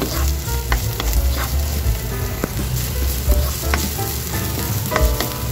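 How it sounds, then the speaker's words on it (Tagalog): Garlic and onion sauté in a pan for chicken arroz caldo, giving a loud, steady sizzle with intermittent clatter from stirring throughout. "Isunod na natin guys yung ating bawang at sibuyas."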